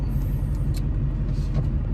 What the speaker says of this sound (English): man, there's a lot of traffic on these side roads, let me tell you.